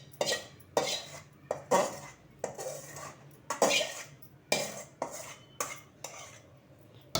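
Cooked tamarind pulp is poured into pulihora and mixed in a pot, giving a series of clattering scrapes and knocks of a spoon against the vessel, repeated in an irregular rhythm at close range, with no talking.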